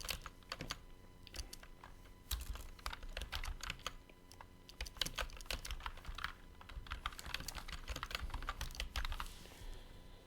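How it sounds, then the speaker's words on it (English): Close, rapid clatter of keys as an email address is typed on a computer keyboard, bursts of keystrokes with brief pauses and no speech. "So over here you can type in your email address."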